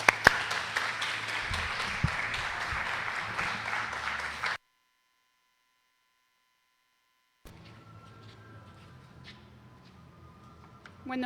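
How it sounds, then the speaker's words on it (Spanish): An audience applauds a professor at a social sciences conference on peace and conflict. Steady, fairly loud clapping runs for about four seconds and then stops dead, followed by a stretch of near silence with a faint hum and scattered light noises. "recibamos con un fuerte aplauso a la profesora Cecil Moulí"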